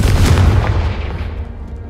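A Confringo blast spell in Hogwarts Legacy bursts with a deep, booming explosion that rumbles loudly and then decays over about two seconds, with no talking.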